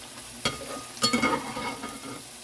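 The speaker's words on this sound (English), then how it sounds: "Got my fries going." French fries deep frying in hot oil, a steady close sizzle with a couple of louder clatters and bursts of bubbling over about two seconds.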